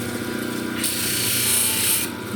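A power tool sands and polishes a rough-cut opal, giving a steady grinding whir with a harsher, brighter rasp as the stone is pressed to the wheel, running continuously without talk.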